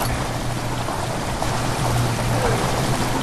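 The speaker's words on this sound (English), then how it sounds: "The water rushing into the chamber makes a strange sound." Water rushes into a stone chamber in the horror game Amnesia: The Dark Descent, a loud, continuous pouring roar with a low rumbling undertone that holds steady throughout.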